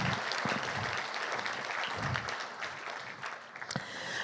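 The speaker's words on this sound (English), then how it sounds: "Let's have a round of applause for them." Steady audience applause at an awards gala, a dense wash of many hands clapping at moderate distance, sustained for several seconds and thinning slightly near the end.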